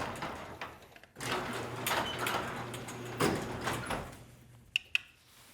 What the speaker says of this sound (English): I'll open the garage door